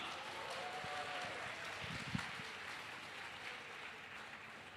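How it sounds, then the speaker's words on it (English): Faint, distant crowd applause at an IRONMAN 70.3 Bahrain event, a soft wash of many hands clapping steadily throughout, with a few closer claps standing out briefly. "give a big round of applause to all our amazing partners"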